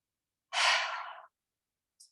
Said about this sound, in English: Let's try 2 more heavy exhales from the throat.